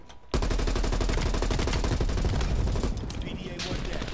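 Dense, continuous automatic gunfire from the video game Call of Duty: Black Ops Cold War erupts after a short quiet start, loud and relentless rapid bursts overlapping for several seconds.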